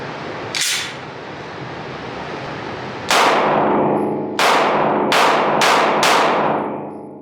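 Loud pistol shots from a Walther PDP Compact or H&K VP9SK compact 9mm, one shot, then a pause and five more in fairly quick succession, each with a sharp crack and ringing decay, no talking.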